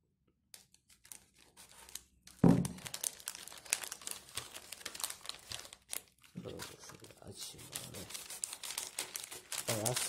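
A package of peat for carnivorous plants is torn and opened, giving close plastic crinkling and tearing in irregular bursts with short pauses, while people talk quietly now and then.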